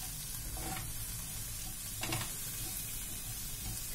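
Raw papaya curry with chopped coriander in a pan, giving a dense, steady sizzle and hiss with a couple of brief stirring scrapes, close and without talking.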